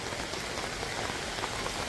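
Steady rain falls, a dense, even hiss of drops on surfaces with no pauses and no voices.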